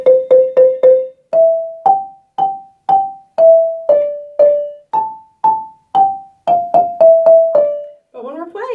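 A marimba plays the basic second tenor pattern of Shamwari in evenly spaced, bright wooden strikes with quick decay. The notes group into short repeated figures, loud and close with no talking, and a brief different flourish comes at the end.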